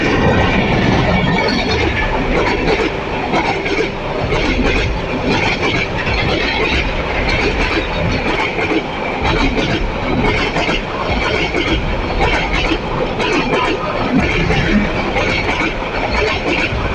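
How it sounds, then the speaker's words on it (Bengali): An intercity train bound from Dhaka to Chittagong roars through Barotakia railway station on a rainy day, a loud, continuous rush of wheels and rattling carriages close at hand. "ঢাকা থেকে চট্টগ্রামগামী একটি আন্তনগর ট্রেন স্টেশন অতিক্রম করলো।"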